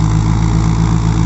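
A newly built rice harvesting machine from Multan idles steadily, a continuous close, loud engine drone with a deep low rumble throughout and no voices.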